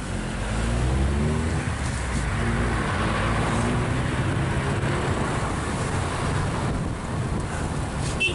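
A giant Little Tikes toy car converted to drive on the road rumbles along with a steady engine drone and buffeting wind noise, loud and continuous with no talk.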